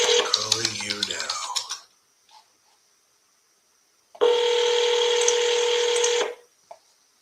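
A phone dials out with a short burst of keypad tones, then a long ringing tone sounds alone after a pause, clear and close.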